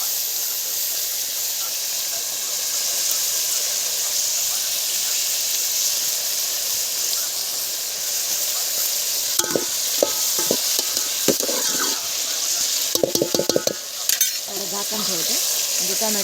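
Chopped tomatoes with a pinch of salt fry in a pan over a wood-fired stove, a constant sizzling hiss underneath, then a cluster of sharp scraping and clattering stirs near the end before the frying settles again.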